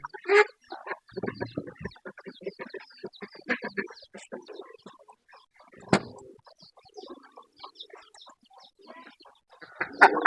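Chicken clucking and fowl calls scattered across the scene, with short bursts of bird noise coming and going at moderate loudness.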